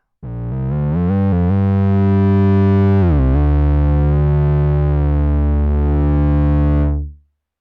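A Prophet 6 synthesizer steel drum patch with heavy distortion plays loudly, stepping quickly through a few pitches before holding a long buzzing note that fades out abruptly.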